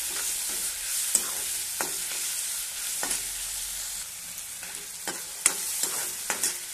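A spoon stirs onions and peas sizzling in oil in a frying pan while cooking Marathi vatana batata rassa, with irregular scraping clicks over a steady close, hissing fry.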